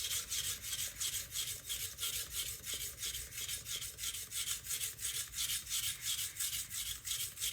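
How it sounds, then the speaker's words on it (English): Hard steel blade grinding back and forth on a coarse diamond sharpening stone while shaping a bevel near the heel, a steady rhythmic rasping scrape with even strokes about twice per second, close and continuous with no talking. "the blade is sliding because it's hard steel on the stone, but still it's grinding"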